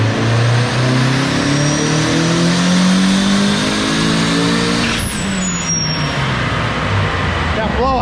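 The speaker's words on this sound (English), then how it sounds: "That blow off gets me every time." A turbocharged car running E85 is close and loud as it revs hard, the engine note climbing steadily, then lets off with a sharp blow-off valve hiss and chatter, with voices talking over it.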